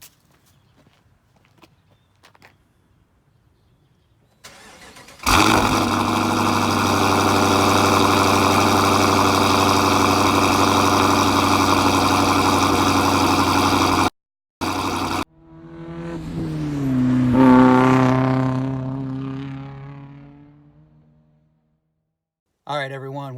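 A car engine cold-starts after a few soft footsteps and a door sound, then holds a loud, steady idle that cuts off, followed by a rising and falling rev. Close and prominent, with no speech heard.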